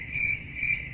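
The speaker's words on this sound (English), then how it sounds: "Only crickets?" Crickets chirp in a steady, shrill, pulsing trill against a quiet background, with no voices.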